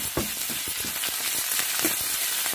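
Coriander stems sizzle in hot tempering oil with onions while okra lemon rice is prepared, giving a steady, close frying hiss with scattered crackles and soft stirring scrapes and no voices.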